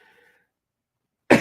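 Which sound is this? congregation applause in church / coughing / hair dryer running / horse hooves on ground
coughing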